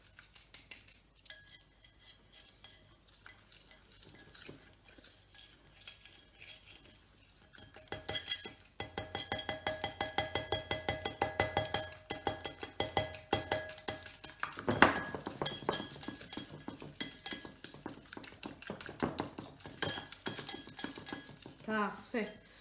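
A teaspoon stirs a cornstarch mixture, giving quick repeated clinks and scrapes against the bowl that start faint and grow louder and busier midway, with a voice speaking intermittently.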